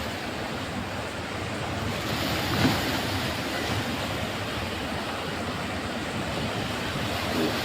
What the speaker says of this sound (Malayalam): നന്നായിട്ട് തിര വന്നടിക്കുന്നുണ്ട് കേട്ടോ